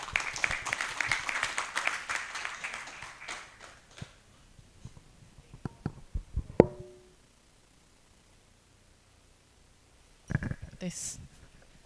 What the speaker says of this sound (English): Please give applause again for Mr. Eric.